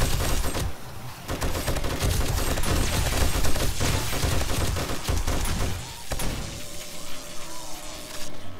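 Dense gunfire rattles almost nonstop in the zombie survival game 7 Days to Die during a horde night, loud rapid bursts with a short pause near the end before shooting resumes.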